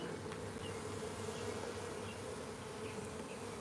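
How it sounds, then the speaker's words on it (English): Honeybees buzzing around an open hive while they fan, a continuous dense drone with a steady low hum, close and unbroken, no voices. "I got bees on my hands, so I'm trying not to squish them"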